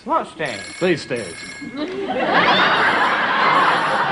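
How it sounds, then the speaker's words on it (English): Office telephone ringing in a 1981 sitcom scene, repeated bright electronic trills in short bursts while people talk and laugh over it, followed by a denser hiss of ambient noise. "That's our phone."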